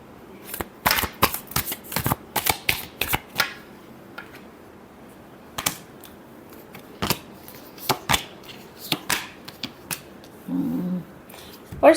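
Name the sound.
shuffling a deck of tarot cards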